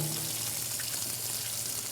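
Tap water runs through a BiPAP hose held in a sink, a steady close rushing hiss with no breaks.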